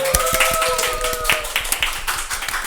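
Quick, rhythmic hand clapping from a few people sounds up close, a steady patter of sharp claps, while a brief voice or hum carries over the start.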